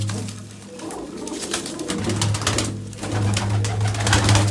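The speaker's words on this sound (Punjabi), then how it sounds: "ਆਹੀ ਡੱਬੀ ਕਬੂਤਰੀ ਆ" Spotted female pigeon cooing close by, a low throbbing coo repeating over a few seconds, loud and alone with soft background rustle.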